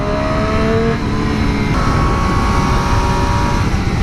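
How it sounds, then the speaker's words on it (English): A Triumph Street Triple RS motorcycle on its stock exhaust pulling onto a highway, a loud continuous engine drone whose rising tone shifts slightly through gear changes, heard close with no talk. "Probably one of the best sounding stock exhaust that I've heard in a long while."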